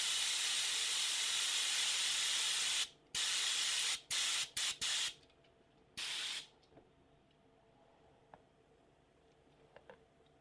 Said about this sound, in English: I will definitely be shooting the second coat in the dark